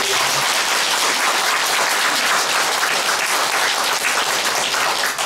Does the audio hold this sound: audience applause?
yes